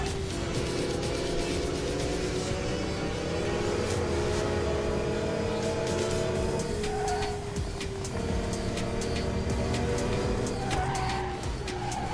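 A car in the video game NTE drives with a steady engine drone that rises and falls in pitch as it shifts, and tires squeal and skid at intervals, with no talk.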